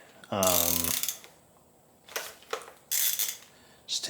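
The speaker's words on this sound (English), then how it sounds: "I'm going to take these 3 nuts off so I can get the center bolts out." A ratchet works on the nuts of a BMW M54 engine with a loud, close burst of fast clicking, followed after a pause by further short metallic clicking bursts and clanks.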